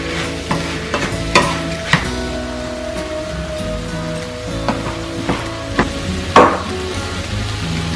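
Diced tomatoes fry with a steady sizzle in a pan, broken by a spoon scraping and stirring through them in scattered strokes, one sharper clack near the end; no voices.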